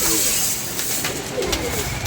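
Pigeons coo in a loft, low murmuring calls surfacing now and then beneath a steady hiss and broadband noise.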